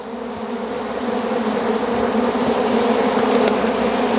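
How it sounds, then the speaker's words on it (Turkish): A dense, steady hum of many honey bees buzzing fills the air, loud and continuous with no voices. "Evet, arımız bu."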